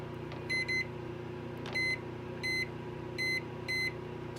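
An RV oven's electronic timer beeps as it is set: six short, clear beeps arriving in pairs and singles over a few seconds, against a steady low hum with no talking.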